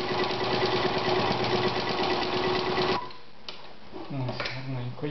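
A Veritas 8016/22 sewing machine stitches in a fast, rapid chatter for about three seconds, then stops, leaving quieter handling noises and a voice speaking.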